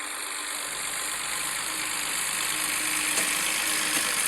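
A tractor engine runs at a steady idle, a soft, even mechanical hum with a low throb that holds throughout without any change in pace.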